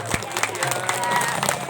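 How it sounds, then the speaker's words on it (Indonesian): Audience in a tent at a village heads' swearing-in ceremony in Ogan Ilir, Indonesia, clapping in a dense, lively burst of applause with crowd murmur, close and moderately loud. "Boleh kita semangatnya tepuk tangan untuk Bapak Panca Wijaya Akbar."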